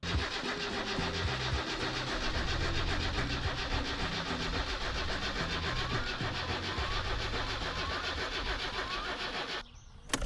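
A car engine in the game My Summer Car cranks and churns steadily without catching, a continuous mid-pitched mechanical drone that cuts off abruptly near the end.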